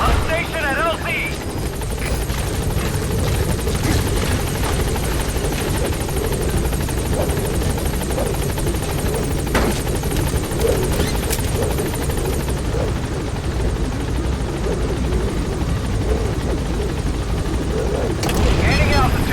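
A military helicopter in Metal Gear Solid V: The Phantom Pain holds at a landing zone, its rotor drone loud and continuous close by, with clipped radio voices talking over it and a few distant booms.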